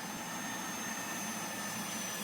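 A steady, loud jet-engine roar from an old plane in the Project Flight game, a flat, unbroken whoosh with no talking over it.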